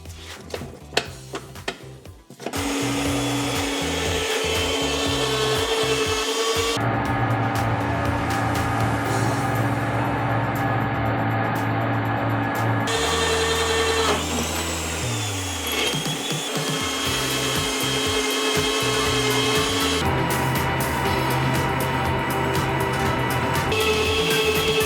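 A power drill fitted with a SuperSpeed bit bores holes into wood, a loud steady whirring grind that runs almost nonstop for about twenty seconds with shifts in pitch as each hole is cut.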